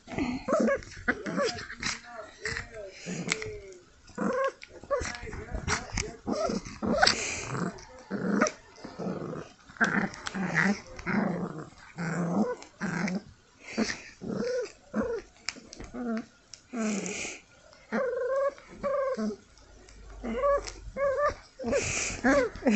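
A puppy growls and whimpers in short, repeated bursts, close and fairly quiet, with a person talking softly in between.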